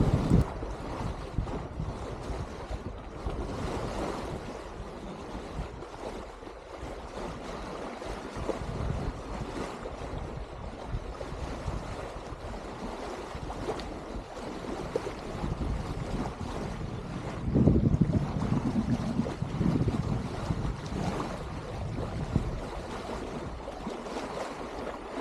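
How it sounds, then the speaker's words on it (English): A sailboat crosses the North Channel from Scotland toward Glenarm with the wind shifting from the beam to astern. Steady wind rush and the wash of waves against the hull continue throughout, with a brief louder surge of water partway through. "Today we've got a good wind, at first on the beam, but it soon shifts to come from astern"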